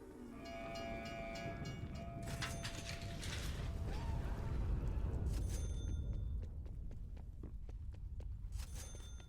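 A train in the Call of Duty zombies map Mauer der Toten rumbles past with low mechanical clanking, creaking and rattling metal, swelling louder at mid-clip before fading, with no voices.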